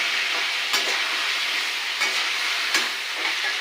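Diced vegetables, stalks and potato, sizzle and fry steadily in a pan while being stirred, with a few louder scraping strokes over a continuous close hiss and no talk.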